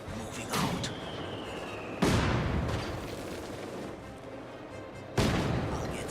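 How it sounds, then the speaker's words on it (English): Rifle grenades from Company of Heroes 2 burst in three loud, sharp blasts spaced a few seconds apart, each trailing off into rumbling battlefield din with scattered gunfire in between. "Rifle grenades."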